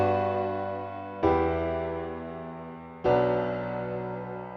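Stock Pro Tools mini grand piano sounding sustained chords, three separate struck chords each ringing out and slowly decaying, clear and close with no talking.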